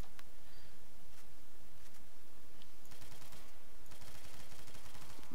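Gunfire rattles in the World at War zombies game mode, with rapid bursts of shots over a constant dense noise bed, growing thicker and more sustained toward the end.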